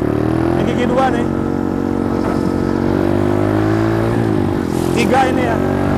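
A Symotos 110 mini trail motorcycle pulling hard in second gear during a power test, its engine droning loud and close and rising in pitch, with a brief dip as it shifts, while someone talks over it.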